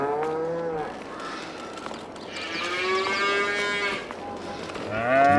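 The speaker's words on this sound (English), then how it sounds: "And these cows should be pretty good." Cattle in the Farming Simulator 22 video game, set on an old Polish farm, moo repeatedly, several long drawn-out calls close by over a low ambient background, with no talking.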